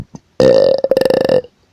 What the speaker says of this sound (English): Why am I burping so much?